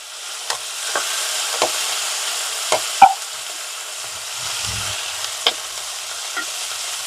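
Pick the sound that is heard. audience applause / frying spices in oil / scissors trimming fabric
frying spices in oil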